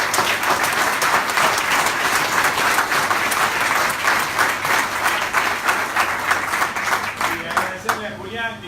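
A crowd applauds Ignacio Copani at a political gathering in La Lucila with steady, dense clapping that fills the whole stretch and thins out near the end, where a voice begins to speak.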